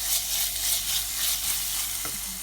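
Green chilies, garcinia, ginger and onions frying in a pan for a Sri Lankan black shark curry, a loud, continuous close sizzle with a brief stir near the end.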